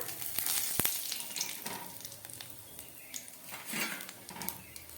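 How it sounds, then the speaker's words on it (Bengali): White cumin seeds and a bay leaf crackle and sizzle in hot oil in a pan, a soft continuous frying hiss with occasional clinks of a utensil against the pot, quiet and close. "একটু জিরে ফোড়ন দিয়ে দিচ্ছি, সাদা জিরে দিয়ে দিচ্ছি, একটা তেজপাতা"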